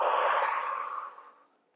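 A single long, audible exhale during yoga sun salutations, a close breathy sigh that starts strong and slowly fades out over under two seconds.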